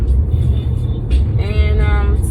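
A car driving on the road at sunset, heard from inside as a steady loud low engine and road rumble that runs throughout, with a brief higher whine partway through.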